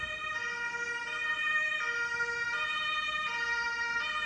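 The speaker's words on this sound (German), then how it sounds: "direkt im Hintergrund erstmal Krankenwagen und Blaulicht und alles" An ambulance siren wails nearby, a clear repeating two-tone pattern alternating pitch roughly every three-quarters of a second, moderately loud over faint background rumble, with no talking.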